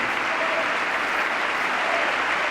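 Audience applause during a State of the Union speech, a steady wash of clapping from a large crowd that holds evenly for the whole moment with no voices over it.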